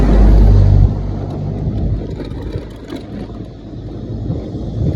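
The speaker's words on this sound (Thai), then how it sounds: "เห็นรถ10 ล้อแล่นออกแล่นเข้าตลอด" Ten-wheel trucks drive in and out along a flood-protection construction site in Vientiane, a heavy, loud low rumble at first that settles into a steady continuous engine drone.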